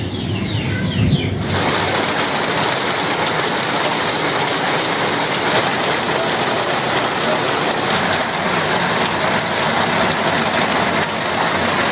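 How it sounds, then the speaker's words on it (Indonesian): Steady heavy rain pours down outdoors as a dense, loud, unbroken hiss that fills the whole stretch without a break. "Aduh, hujan nih mah"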